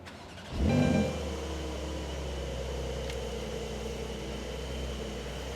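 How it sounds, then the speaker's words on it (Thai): A turbocharged flat-six boxer engine in a Porsche 911 Carrera S gives one short rev with a throaty burst, then settles into a steady, low rumbling idle close by, with no talking. "เอกลักษณ์ของ ของเครื่องบ็อกเซอร์เครื่องสูบนอนนะ และก็เป็นเครื่องที่มีเทอร์โบ"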